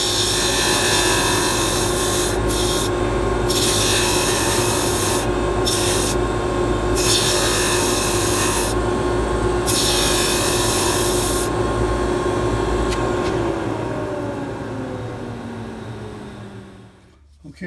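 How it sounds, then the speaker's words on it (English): A bench grinder relieves the edges of cast resin pen blanks for a steampunk fountain pen, giving a loud, continuous whirring grind that holds steady, breaks off briefly several times, then winds down near the end. "we're going to take these to the grinder and then we're going to relieve the edges"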